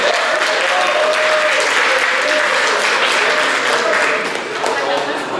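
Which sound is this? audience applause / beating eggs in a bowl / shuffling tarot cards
audience applause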